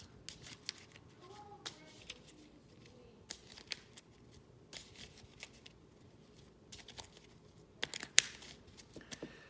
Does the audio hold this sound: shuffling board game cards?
yes